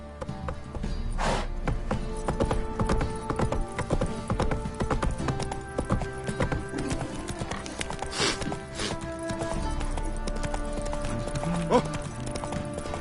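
Roach, a horse in The Witcher 3, trots with steady, close clip-clopping hooves over a continuous game soundscape, with a few sharper knocks and a brief whinny-like sound, no talking.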